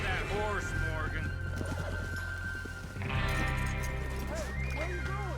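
A horse in a video game whinnies loudly twice, its wavering neighs framing a stretch of hoof clops and snorting, with game voices faintly in the background.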